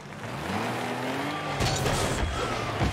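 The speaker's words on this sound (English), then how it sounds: "Because I hear the engine." Rocket League car engines in the video game whine with rising and falling pitch, joined by tire squeal, a steady loud roar across the whole stretch that swells near the end.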